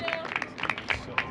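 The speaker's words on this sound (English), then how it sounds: "Can we get a round of applause?" A live show audience claps for a birthday, several sharp, uneven hand claps close by in quick succession over about a second, with voices from the crowd mixed in.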